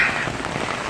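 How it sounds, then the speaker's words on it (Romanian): Heavy rain pours onto an umbrella that is starting to leak, a dense steady patter close overhead with no pause. "Oricum plouă atât de tare încât a început să-mi plouă prin umbrelă, nici umbrela nu mai face față."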